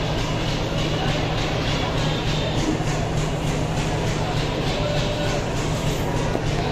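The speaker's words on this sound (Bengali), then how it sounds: "ট্রেনের মধ্যে এভাবেই ভিক্ষা করছেন গাছ বাবা" Inside a moving passenger train, a loud, continuous rumble of wheels and carriage with a steady low drone and faint rhythmic clatter.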